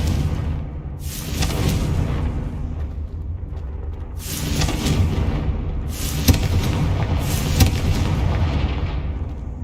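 Confringo spell explosions in the Hogwarts Legacy video game, several loud booming blasts with rumbling low-end tails over a continuous game background.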